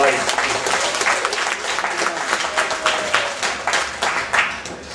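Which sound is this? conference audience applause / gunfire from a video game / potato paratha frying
conference audience applause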